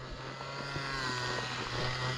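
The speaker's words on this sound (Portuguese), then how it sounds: "Já dá pra ouvir o barulho do motor." A steady engine drone with a low hum and faint harmonics, fairly distant, running continuously without any talk, heard while riding a horse in a park.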